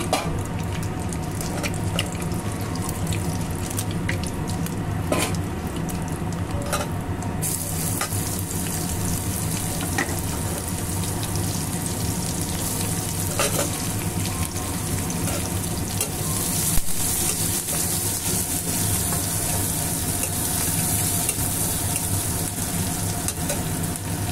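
Chopped onions frying in hot oil with cumin seeds in a pan: a steady, loud, close hiss and crackle of sizzling throughout, with a few stirring clicks early on and no talking.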